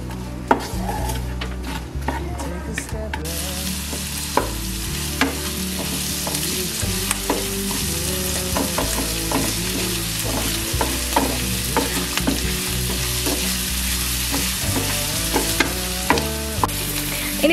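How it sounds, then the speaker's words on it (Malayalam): Chopped garlic and onions fry and get stirred in a pan for restaurant-style fish chilli: a loud, constant sizzle with repeated clattering scrapes and knocks of a utensil against the pan, with no voices. "ഇതിലേക്ക് കട്ട് ചെയ്ത് വെച്ചിരിക്കുന്ന ഓണിയൻസ് ഇട്ട് കൊടുക്കാം."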